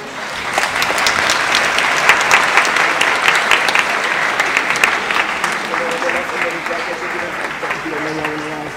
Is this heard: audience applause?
yes